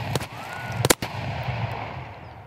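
Gunfire in the game Escape from Tarkov: a single sharp shot, then a tight burst of two or three more shots close together, each ringing out briefly against a steady outdoor ambience.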